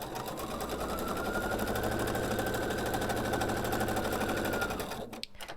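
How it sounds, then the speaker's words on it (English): A sewing machine stitches a half triangle onto a quilted table runner, a steady, close, rapid mechanical whir that runs for about five seconds and then stops. "sew this half triangle in place"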